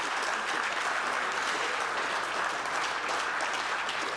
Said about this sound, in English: So again, a round of applause for Alert.